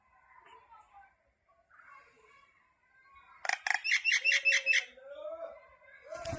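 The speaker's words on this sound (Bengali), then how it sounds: "কত রকমের আওয়াজ করে রাখছে দেখো।" A pet bird makes a variety of calls, soft chirps and squawks leading into a loud burst of rapid repeated squawking, close by, with a person talking intermittently.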